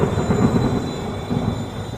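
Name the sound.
thunder sound effect in horror story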